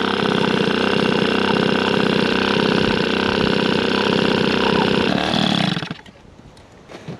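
Peugeot 103 SP moped, customised, with its small two-stroke engine idling steadily and loud up close, a buzzing, slightly uneven putter that cuts off abruptly near the end, leaving quiet background.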